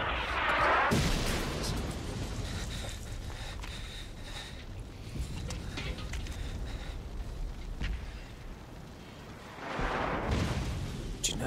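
Loud war-film explosion bursts open the scene, a heavy boom with rumbling debris, followed by a sustained low roar and a second blast swelling near the end.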